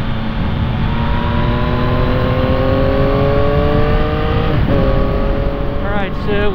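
A 2022 Yamaha XSR900 motorcycle accelerating on the road, a steady loud engine drone with rising pitch throughout and a brief gear change near the end, heard close under wind noise.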